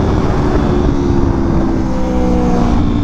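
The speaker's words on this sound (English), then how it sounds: "That exhaust sounds really good." Yamaha R1 motorcycle exhaust while riding, a loud, steady engine drone with a continuous rumbling tone that holds throughout, close and alone with no talk.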